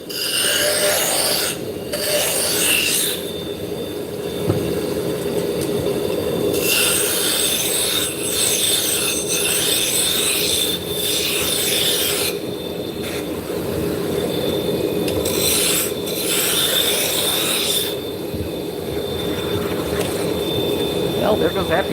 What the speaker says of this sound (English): Well, there goes that piece of sandpaper.